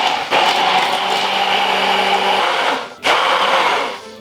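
A kitchen blender whirs loudly and steadily, emulsifying egg, leftover marinade and oil into a sauce; it runs for over two seconds, cuts off briefly, then starts again, with no talking.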